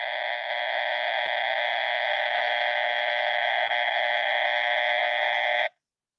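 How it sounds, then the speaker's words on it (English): Steady, droning buzz of power line interference picked up on a radio receiver, a constant harsh hum at even loudness throughout that cuts off sharply near the end. "That's line noise."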